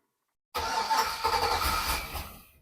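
LS-swapped Ford Bronco II V8 with a Holley Terminator fuel injection setup cranks briefly and fires, settling into a loud, rough, rumbling run close by that fades slightly toward the end.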